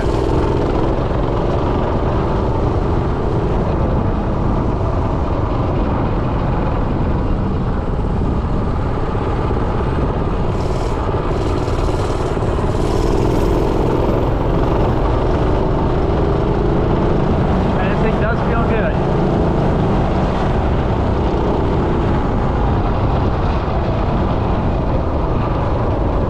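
Minibike fitted with a Predator 212 engine riding around a driveway, its engine droning steadily and loudly for the whole stretch with a constant broadband roar.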